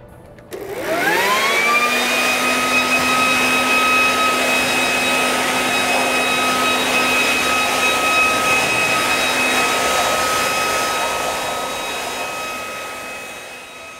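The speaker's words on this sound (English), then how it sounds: "we could use a leaf blower to safely blow all the water out of the engine compartment" A leaf blower spins up sharply and holds a loud, steady whine with a rising tonal hum while blowing water out of a car engine compartment, then tapers off at the end.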